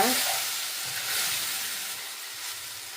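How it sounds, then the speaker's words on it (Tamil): Pineapple curry bubbling and hissing in a pot as it is opened and stirred, a steady close steamy sizzle that slowly fades, with soft scraping underneath. "ஓப்பன் பண்ணிவிட்டு நல்லா வரையா மிக்ஸ் பண்ணிக்கிறோங்க"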